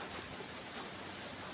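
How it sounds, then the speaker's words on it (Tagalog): Steady rainfall with a soft, even hiss of drops on surfaces, faint and continuous across the short stretch, with no voices. "Pero gaulan ron guys."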